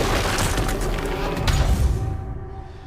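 Explosion from the animated series Arcane, a loud sustained rumbling blast with a heavy low thump partway through, fading out toward the end.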